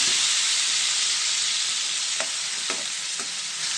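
Onion, tomato, green chili, ginger, garlic and cumin frying in oil give a loud, constant close-up sizzle, with a few soft stirring scrapes toward the end and no voices.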